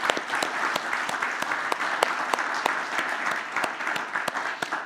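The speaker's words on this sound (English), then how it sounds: "I really want to give applause to them before" A crowd at a smart city conference in Tallinn applauds. The steady clapping lasts about five seconds, moderately loud, with individual sharp claps standing out above the wash.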